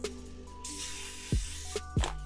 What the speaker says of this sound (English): we're gonna spray them in a little bit of nonstick spray